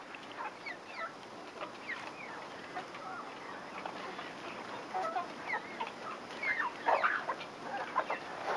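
Chickens cluck and chatter steadily in a farmyard, several birds close by with scattered squawks growing busier and louder toward the end, with no talk.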